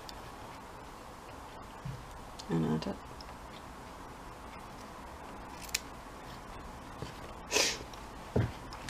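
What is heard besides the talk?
scissors cutting lace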